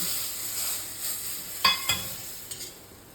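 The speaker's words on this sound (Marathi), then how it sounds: "आणि थोडासा लसूण, 1 पाकळी बारीक चिरून आणि थोडीशी काश्मीरी लाल तिखट, आणि हा तडका आपण या भाजीवर टाकू" Sizzling tadka of finely chopped garlic and Kashmiri red chili in hot oil poured over a dal bhaji, a steady hiss with a couple of sharp spitting bursts midway, close and alone with no voices.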